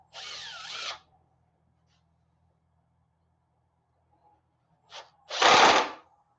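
A power drill drives screws into a CNC table, two short whirring bursts separated by a quiet pause, the second louder and preceded by a quick click.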